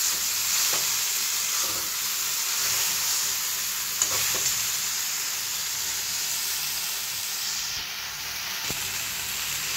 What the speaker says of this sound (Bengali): পরিমাণ মতো হলুদ দিয়ে দেবো। ভালো করে নাড়িয়ে নেব।